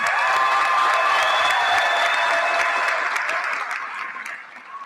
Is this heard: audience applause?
yes